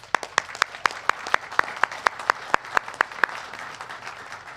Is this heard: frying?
no